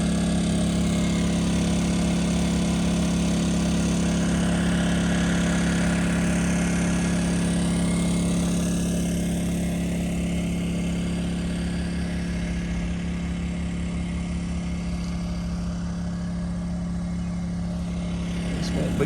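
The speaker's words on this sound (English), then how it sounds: "That little generator right there running is watering that garden." A small generator runs steadily to power garden irrigation, a constant droning engine hum with a strong low tone, near and unchanging throughout, with a voice speaking over it.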